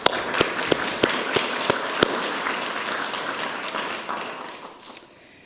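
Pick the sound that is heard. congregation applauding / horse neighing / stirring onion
congregation applauding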